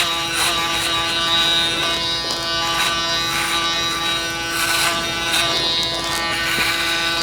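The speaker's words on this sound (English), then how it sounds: "Now I am bringing the shaver right up to the line of demarcation that I made in with the trimmer" An electric shaver buzzes steadily and close up while a barber fades the sides of a client's head during a skin fade haircut, the tone holding level with slight shifts as it passes over the hair.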